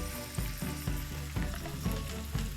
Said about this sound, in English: And with this, I'll give a quick saute.